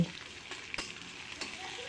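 Ground radish greens go into a pan of frying garlic and onion, a soft steady sizzle with a few light stirring taps, quiet and close.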